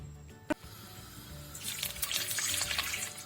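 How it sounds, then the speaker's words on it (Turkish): Garlic cloves fry in olive oil for a pickled roasted jalapeño recipe. A single sharp clack comes first, then a bright, crackling sizzle rises about halfway through and keeps popping steadily. "Aromasını kuvvetlendirmek için zeytinyağında sarımsakları biraz kavuruyorum."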